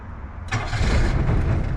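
A Daihatsu Mira's engine cranks and fires up abruptly about half a second in, then settles into a steady, close, fairly loud idle with no voices.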